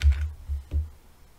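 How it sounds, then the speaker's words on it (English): Three separate key presses on a computer keyboard, close and fairly quiet, spaced unevenly with silence between them. "hold the control down on your keyboard,"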